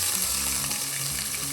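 Cinnamon, cloves, cardamom, star anise, ginger, garlic and green chillies sizzle in hot oil for fried chicken biryani, a dense continuous crackling fry close by, steady and without any talk.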